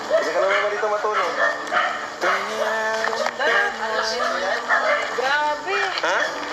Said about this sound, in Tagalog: Dito na yung mga aso.